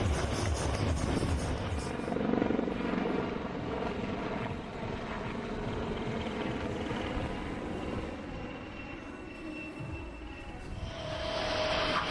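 Military helicopters fly over the Aero India air show, producing a loud, continuous rotor and engine roar that swells and fades slightly over about twelve seconds.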